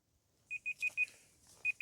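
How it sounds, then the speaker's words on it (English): A series of short, high-pitched electronic alarm beeps, four in quick succession and then one more after a pause, heard close and fairly loud while laundry is being washed. "All right, shut up, alarm."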